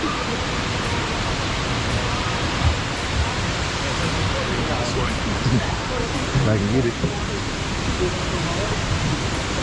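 An indoor waterfall rushes continuously in the river section of Gaylord Opryland's Delta River Boat ride, a steady broadband roar filling the space, while a voice speaks briefly over it.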